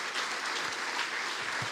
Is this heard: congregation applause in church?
yes